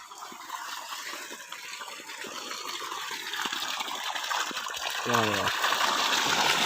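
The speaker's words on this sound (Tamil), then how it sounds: "சோலார் தண்ணி ஓடிட்டு இருக்கு. தண்ணி வருது." Water gushes steadily from a solar-powered pump on a farm, a continuous rushing flow that grows slightly louder, with someone talking over it and a brief tonal sound near the end.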